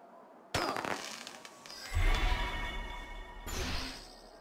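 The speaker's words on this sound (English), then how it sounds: "Some sod got a firecracker." A firecracker goes off in the video game Assassin's Creed Unity: a sudden sharp crack followed by crackling, a low rumbling burst and a lingering hiss, then a second flare of crackle.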